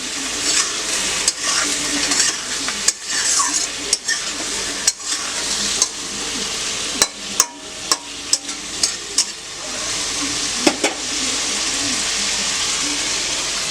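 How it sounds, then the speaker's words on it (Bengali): Vegetables sautéing with turmeric powder in a pan, a loud continuous sizzle broken by repeated sharp scrapes and knocks of a spoon against the pan. "সবজিগুলোকে কিছুক্ষণের জন্য সাঁতলে নিতে হবে।"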